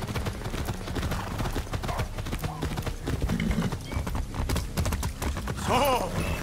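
Rapid hoof clip-clops from a horse in Far Cry 6 over a busy, layered game soundscape, with a brief whinny-like squeal near the end.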